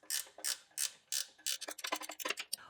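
An old bandsaw is being stripped down, with a run of sharp mechanical clicks and rasps from tools working on its parts, spaced at first and then coming faster and closer together, up close.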